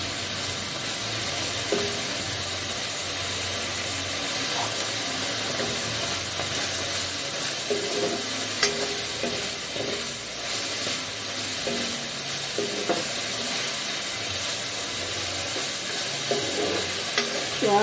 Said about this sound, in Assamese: এতিয়া পাতৰ পৰা পানী ওলাইছে, এই পানীখিনি মানে শুকোৱালৈকে অলপ ভাজি থাকিম।